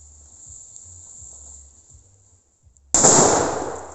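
A Dum Bum firecracker of 5.5 grams with green flame goes off outdoors: one sudden loud bang that follows quiet crickets and fades over about a second.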